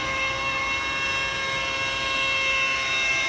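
A rotary polisher buffing car paint runs continuously at around 1200 RPM, producing a steady whining hum with sustained tonal lines and no pauses or speech.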